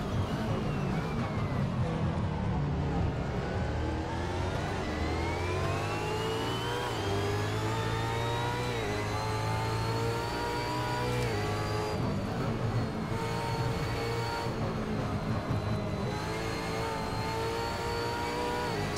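V8 Supercar engine in Assetto Corsa at Pukekohe, a steady loud rising and falling rev through the gears with harmonic drone, sweeping up in pitch during acceleration and dropping at shifts, continuous and close.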